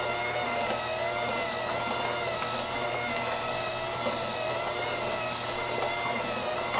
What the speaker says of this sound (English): So I'm going to have my electric mixer right here.